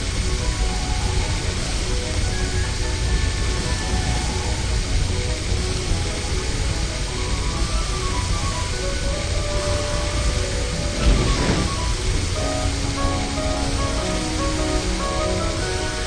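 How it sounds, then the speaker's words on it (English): Water gun spraying on a fire in a children's firefighter game: a steady, loud rushing hiss of water runs unbroken throughout, with faint tonal game sounds layered underneath. "Slide the water gun to put out this terrible fire."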